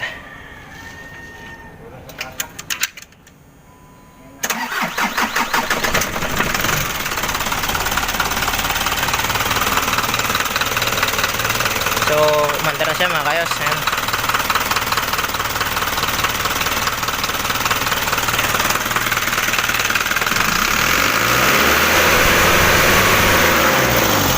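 A diesel engine, just fitted with a new oil seal, cranks over after brief scuffling and then catches, settling into a loud, steady, knocking idle that continues to the end, with a few faint voices under it.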